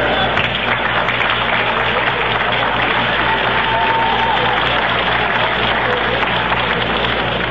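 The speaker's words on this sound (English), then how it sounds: "Ryan getting a smattering of applause from Giant fans who appreciate good baseball" Steady applause and crowd noise from Giants fans at a Mets at Giants baseball game, a broad, even wash of clapping at moderate loudness that holds for the whole stretch.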